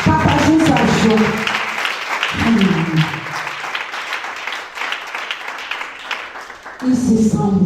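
A congregation at a church service breaks into applause. A burst of clapping follows a short spoken exchange, then sustained clapping mixed with crowd voices continues before a voice speaks again at the end.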